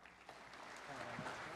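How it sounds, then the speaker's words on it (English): An audience claps for a guest weather speaker at a weather presentation, a soft, fairly distant patter of hands that swells slightly over its short span. "Brian Bledsoe a big round of applause."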